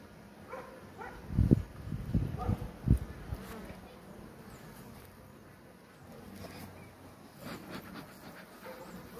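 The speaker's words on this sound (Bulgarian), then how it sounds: "пчелите са доста спокойни" Honey bees hum around an open hive during an October inspection of honey stores and brood, a soft continuous drone with some louder thumps and handling noises of frames early on.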